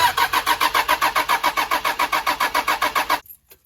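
A turbocharged car engine cranks with its fuel line disconnected, the starter spinning it without firing in a fast, even, loud whirring pulse for about three seconds before cutting off abruptly into near silence.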